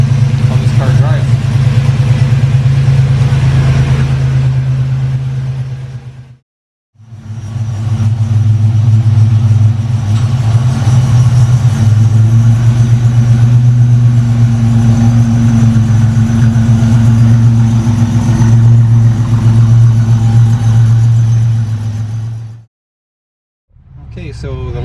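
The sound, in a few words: Buick GNX car engine driving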